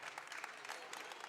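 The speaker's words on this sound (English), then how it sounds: "Gets a good hand by the Norwood crowd" Crowd applause at a Norwood girls' high school basketball game as a player heads to the bench, a brief, steady patter of clapping heard from a distance.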